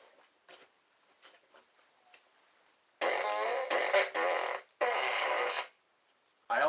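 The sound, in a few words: toy fart gun making fart sound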